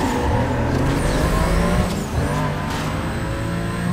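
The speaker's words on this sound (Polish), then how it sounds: "Ale teraz idealna zmiana przełożenia." A race car engine roars loud and steady in the Need for Speed Most Wanted video game during a drag race, holding a high drone with a brief dip near the middle as a gear shifts.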